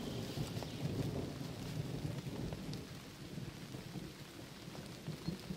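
Steady heavy rain falls through a deep forest during a thunderstorm, with low rumbles of thunder rolling underneath the continuous patter, close and fairly loud throughout.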